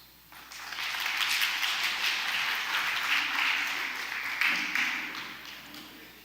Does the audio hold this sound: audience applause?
yes